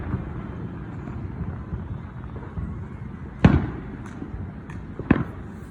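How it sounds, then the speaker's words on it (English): A neighborhood fireworks show sends up multi-firework bursts: two sharp, loud booms stand out above a low, steady background rumble, with a few fainter pops between them. "that was a multi-firework one"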